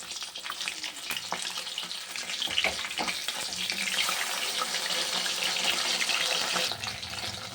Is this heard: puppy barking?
no